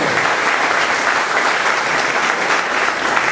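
A church congregation breaks into loud, dense applause praising the Lord during a sermon, a sustained wash of many hands clapping together close by, with no talk over it.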